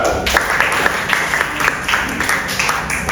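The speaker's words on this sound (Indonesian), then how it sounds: "Luar biasa, tepuk tangan dulu." A classroom of people claps steadily, brisk even applause at close range lasting the whole moment with no speech.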